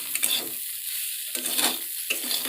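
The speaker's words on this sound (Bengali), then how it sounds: "লঙ্কা বাটা দিয়ে বেশ কিছুক্ষণ কষে নেবে।" Chili paste fries and is stirred in a pan, giving close sizzling and bursts of scraping in a few rough strokes with short pauses between them.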